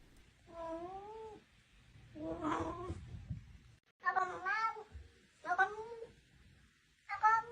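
A cat meows repeatedly from a played cat video, a series of drawn-out, wavering meows with short pauses between them, fairly clear and without talking over them.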